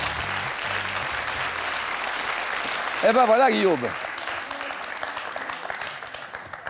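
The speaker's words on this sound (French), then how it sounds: "on peut applaudir ces deux candidats qui me rejoignent ici au milieu" Studio audience applause on a televised quiz show final rolls on as a steady, dense clatter, with music swelling briefly midway and a host speaking over the clapping.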